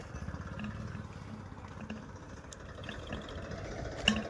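A tractor engine chugs at a low, steady idle-like rumble, moderately loud and continuous throughout, with a brief knock near the end and no clear speech.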